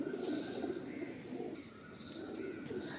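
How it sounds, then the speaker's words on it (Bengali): Madrasi pigeon cooing in soft, low, repeated rolling coos, close but quiet, with faint chirps in the background. "ম্যাড্রাসি পায়রা ম্যাড্রাস পায়রা এটা।"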